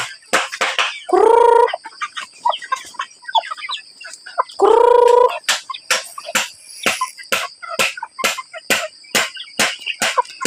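Chickens cluck in quick, repeated bursts nearby, with two drawn-out crowing or squawking calls, and insects chirp steadily in the background.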